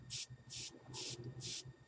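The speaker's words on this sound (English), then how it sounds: "Now I'm holding the air can fairly much straight up and down for two reasons." Four short bursts of spray from a Copic airbrush air can held straight up and down over a stencil on a gesso-primed journal page, each hissing puff about a quarter second long, evenly spaced, close and fairly loud.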